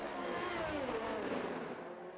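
A Formula 1 car in a racing video game, in Ferrari livery at the Hungaroring, gives a continuous high-pitched engine whine that shifts in pitch as it revs through a corner. It is steady and fairly faint, with no talking.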